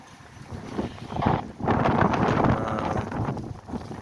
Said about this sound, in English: And it's windy out here, so very, very windy out here.